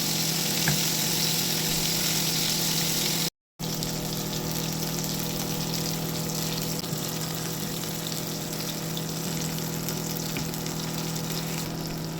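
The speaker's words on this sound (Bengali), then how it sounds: "কড়াইয়ের মধ্যে সর্ষের তেল গরম করে মাছগুলোকে ভেজে তুলে নেব" Continuous loud sizzling and crackling of koi fish frying in hot mustard oil in a wok, steady throughout with a momentary break early on.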